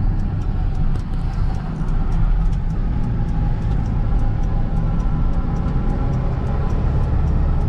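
A car driving along a road on the outskirts of Vladivostok gives a steady, close engine and road rumble heard from inside the cabin, with faint regular ticking above it and no talking.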